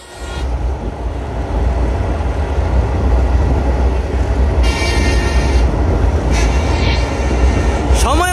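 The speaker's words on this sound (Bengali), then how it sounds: "আমরা এখন মালগাড়ি ট্রেনের ছাদে উঠে পদ্মা সেতু অতিক্রম করব।" Stone-carrying freight train crossing the Padma Bridge, heard from the wagon roof: a loud, steady rumble and clatter of wheels fills the whole stretch, with brief high squeals near the end.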